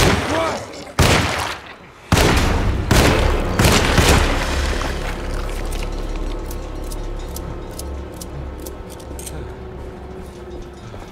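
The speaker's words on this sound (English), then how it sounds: "I'm gonna just shoot his ass" Gunshots in the 2024 PS5 game Alone in the Dark: several loud, sharp booming shots in quick succession at the start, then fading reverberant ticking and ambience.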